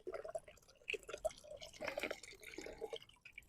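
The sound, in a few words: solar powered pebble pool fountain water splashing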